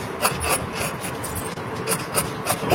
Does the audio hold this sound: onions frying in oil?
no